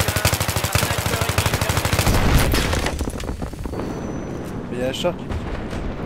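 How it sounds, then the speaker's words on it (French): Rapid bursts of gunfire come from all sides in the Battlefield 3 video game, with machine-gun rattles and heavy blasts layered together at first, then fading into scattered shots under someone speaking. "Ah, ça tire dans tous les sens"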